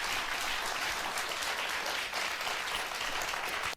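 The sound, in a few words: audience clapping on a show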